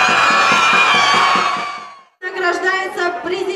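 Football fans cheering after FC Anapa's 3–1 win: a loud, sustained crowd roar with shouts and whoops cuts out briefly, then surges back with more yelling and cheering voices.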